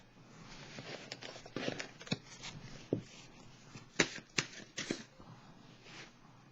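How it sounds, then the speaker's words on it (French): A card drawn from an oracle deck gives soft papery rustles and shuffling, then several sharp flicks and snaps close by, with quiet pauses between. "Je vais piger une carte de l'oracle de l'âme intuitive."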